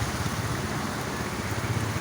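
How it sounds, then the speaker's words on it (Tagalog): Heavy rain beside a market falls in a dense, steady hiss of drops that stays even and fairly close for the whole moment, with no voices. "talagang lakas ng ulan"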